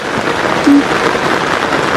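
Heavy June monsoon rain pours down in a dense, continuous hiss, loud and close, with a brief faint tone partway through.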